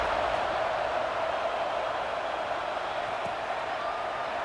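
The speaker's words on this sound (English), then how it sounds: "this crowd is buzzing after that last score" Stadium crowd in a college football video game, Florida State against SMU, a steady distant roar of murmuring fans with faint cheers woven through, constant and even, with no distinct talking on top.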